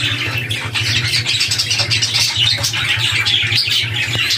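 Three golden pet birds chirp and tweet steadily and loudly, up close and overlapping, over a constant low hum, with no talking.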